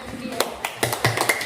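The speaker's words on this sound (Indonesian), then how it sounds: "Kamu berhak mendapat tepuk cinta kasih dari teman sekitarmu." A school class claps a rhythmic patterned clap called tepuk cinta kasih, with quick sharp claps at uneven beats and voices chanting along.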